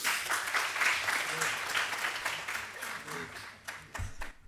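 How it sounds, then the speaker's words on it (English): An audience at a university academic talk applauds warmly for several seconds, the clapping thinning out toward the end, with a few voices murmuring underneath. "Round of applause, please."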